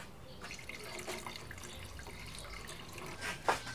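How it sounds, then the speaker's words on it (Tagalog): Water runs from a tap into a pot for a second boil of chicken gizzards, a quiet, steady splashing trickle with small drips and a brief clatter near the end. "maglalagay ako ulit ng tubig para pakuluan ulit"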